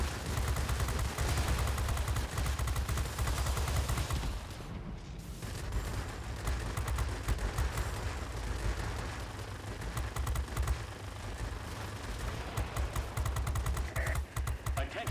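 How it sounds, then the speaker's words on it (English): Turret and machine gun fire in a video game: dense, continuous bursts of rapid shots and booms, loud and sustained throughout, with a brief dip in the middle before the firing resumes. "Problem is they're hitting us with turret fire."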